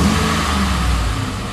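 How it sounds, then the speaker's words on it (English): The V8 engine of a 2012 Ford F150 pickup revs up, a loud, deep rumbling roar rising and holding, heard close. "just let me give it a rev"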